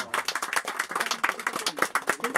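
Close, uneven hand clapping by a small group at a Marathi literary conference gathering, sharp separate claps in loose rhythm, moderately loud, with no words over it.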